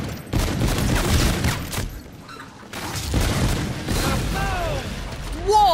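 Explosive booms and crashing bursts from a Call of Duty: Infinite Warfare zombies match, loud and rumbling in two large waves, with excited players shouting over the blasts.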